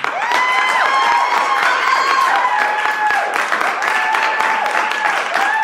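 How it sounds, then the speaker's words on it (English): A studio audience breaks into loud, sustained applause mixed with cheers and whoops, a bright wall of clapping that stays near and full for several seconds. "our audience is liking that news, judging by their applause"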